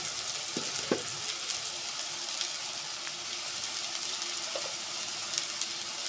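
Ground turmeric, chili and coriander frying and being stirred for a beef curry, with a steady close sizzle and a few soft scrapes from stirring throughout.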